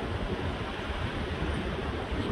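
Strong wind gusts during a windstorm in Des Moines, Iowa, a steady broadband roar buffeting the microphone without pause, loud and close, with no voices.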